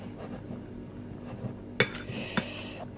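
A utensil stirs tart dough made with egg and a pinch of salt in a bowl, producing faint steady scraping with a couple of sharp clinks against the bowl.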